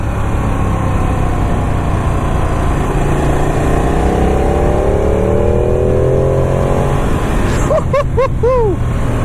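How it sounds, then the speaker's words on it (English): A Ducati 959 motorcycle engine under way on a test ride, a steady loud throaty drone with rising and falling revs, wind rush across the whole clip, and a brief squeal of bird chirps near the end. "It's definitely got that grunty Ducati sound though."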